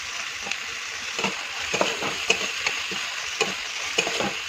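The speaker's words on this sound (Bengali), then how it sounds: "কাঁচা লঙ্কা টঙ্কা সব দিয়ে দিচ্ছি, দিয়ে তেল দিয়ে ভাজতেছি" Onion, garlic, green chilli and spices frying in oil, a dense steady crackling sizzle close by, punctuated by regular stirring taps of a spoon, with no talking.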